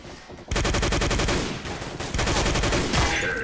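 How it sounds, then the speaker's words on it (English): Gunfire in the World War II shooter Day of Defeat: Source: dense, rapid automatic bursts with sharp repeated cracks, loud and close, running almost continuously after a brief quiet start. "Recoil on this gun is mad, mate."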